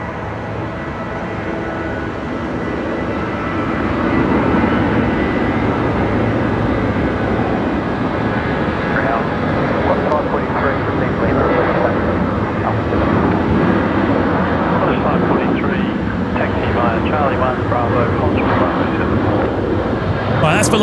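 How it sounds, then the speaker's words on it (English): A Boeing 737-800 jet on a night departure from Brisbane Airport on Velocity flight 1224 to Canberra produces a broad, steady roar that swells after a few seconds and holds for a long stretch, mixed with wind noise and faint background voices. "that's velocity 1224 heading off to Canberra tonight, the 737-800"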